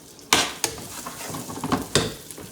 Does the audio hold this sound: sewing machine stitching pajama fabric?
no